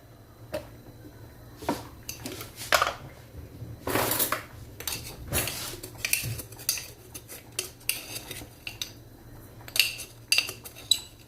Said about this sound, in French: on va le battre avec les jaunes d'œuf et le sucre